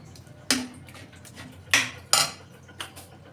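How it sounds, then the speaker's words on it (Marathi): Cooked dill and spinach greens with a little millet flour are mashed in a kadhai. Four sharp metal knocks of a utensil against the pan ring out at uneven intervals, close and alone. "कढईतच शिजवलेली मग त्याच्यातच घोटून घेते."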